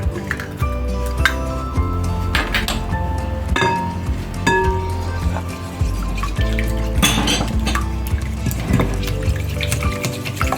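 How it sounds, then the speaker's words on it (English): An egg is whisked in a bowl for an oven-baked pancake batter, producing rapid, uneven metallic clinks and taps against the bowl that run throughout, set against steady background music. "you whisk your egg very well before adding the rest ingredient."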